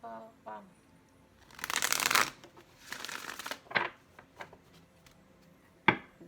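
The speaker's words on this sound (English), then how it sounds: "this will be our last shuffle" Tarot cards being shuffled in two long riffling bursts, crisp and close, followed by a few light taps and a sharp card snap; quiet talk is heard faintly at the start.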